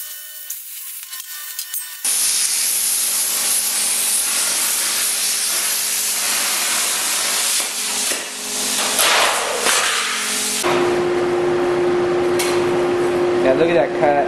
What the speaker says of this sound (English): Okay, that's got to be plasma cut.